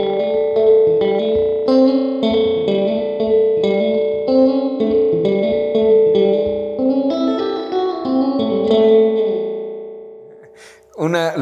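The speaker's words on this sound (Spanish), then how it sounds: "Y si le subimos un poquito más, es como si tuviésemos un reverb de resortes" An instrument played through a Boss DD-3T delay pedal set to short, dense repeats that smear each note into a metallic, spring-reverb-like wash, running steadily, then trailing off before a brief noise at the end.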